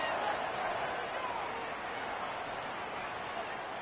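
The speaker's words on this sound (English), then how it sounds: "Here comes the noise from this big crowd in Happy Valley on third down" A big stadium crowd at Happy Valley roars on third down during a Northwestern vs Penn State College Football 26 game, a steady, loud, dense wash of crowd noise that holds throughout and eases slightly near the end.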